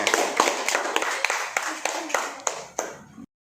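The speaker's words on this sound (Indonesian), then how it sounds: "Beri aplaus lagi buat Rizky" Classroom applause: a group of students claps in a quick, uneven run of sharp, close hand claps that thin out toward the end and stop abruptly.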